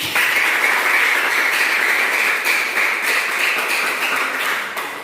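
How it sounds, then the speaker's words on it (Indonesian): A classroom of students claps together in steady, dense applause that stays loud for about five seconds and then begins to taper off. "Oke, kita berikan tepuk tangan."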